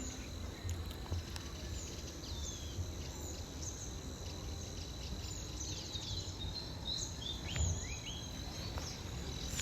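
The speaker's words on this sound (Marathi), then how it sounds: "मॉर्निंगचा मस्त आवाज येतो चिमण्यांचा पण, पक्ष्यांचा" Faint sparrows and other birds chirp and tweet in scattered short calls on a foggy morning, over a steady background of insect buzz and quiet outdoor ambience.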